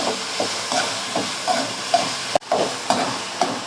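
Tomatoes with fenugreek seeds and garlic sauté in a pan for vatha kuzhambu, giving a steady frying hiss broken by regular stirring scrapes roughly every half second, close and moderately loud, with no talk.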